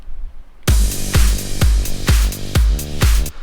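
A bright electronic crash cymbal rides over a booming kick pattern and a low bass line, the hits repeating steadily and loud, ending abruptly.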